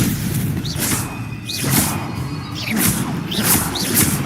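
Stupefy spells cast during combat in the video game Hogwarts Legacy, several sharp whooshing bursts with booming impacts about once a second over a loud rumbling bed, no talking.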